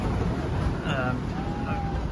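Strong sea wind roars steadily aboard a sailboat on an ocean passage from Reunion to South Africa, a continuous loud rush with faint whistling tones, heard from inside the boat.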